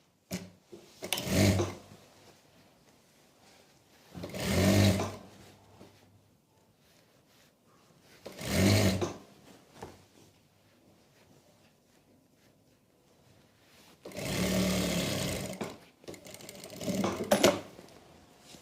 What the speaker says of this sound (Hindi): गुप्त सिलाई लगाएंगे।